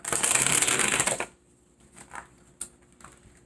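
Tarot cards shuffled in a quick riffling burst for about a second, then a few soft scattered flicks and taps of cards being laid out, close and otherwise quiet.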